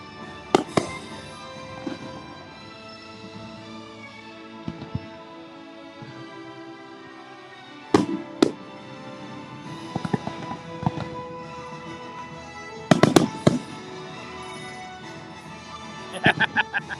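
Fireworks at Epcot, Walt Disney World, burst as sharp booms and crackles in scattered clusters over a murmuring crowd, with people talking throughout.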